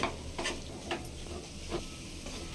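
Peanut (shenga) mixture for shenga katli roasting in a pan while being stirred: a soft, steady sizzle broken by a few spaced scraping strokes, close and fairly quiet, with no talking.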